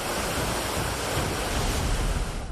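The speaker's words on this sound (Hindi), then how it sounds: "पानी किसी बड़ी नदी की तरह बह रहा है" Flash-flood water near Gajgarh by Dharamshala in Himachal Pradesh rushes like a big river during heavy rain, a loud, dense, unbroken roar of churning water filling the whole clip.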